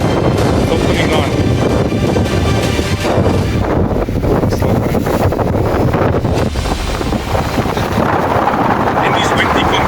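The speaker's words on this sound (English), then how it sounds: "In these windy conditions, eh?" Strong wind buffets the microphone on a fishing pier at Margate, KwaZulu-Natal, a loud continuous roar of gusts that never lets up, with surf and a voice faintly mixed underneath.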